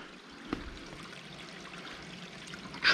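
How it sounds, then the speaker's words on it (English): Used household water trickles down a drain pipe toward a septic system, a steady soft flow running close and alone, with a brief knock midway and a sharper splash near the end. "Now we can hear all the water that we used."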